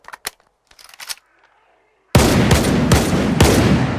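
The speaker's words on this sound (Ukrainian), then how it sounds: "Вистріляємо по 100 набоїв." A few quiet clicks and faint noises, then a burst of loud, rapid Saiga shotgun fire in S.T.A.L.K.E.R. 2, the blasts coming in quick succession.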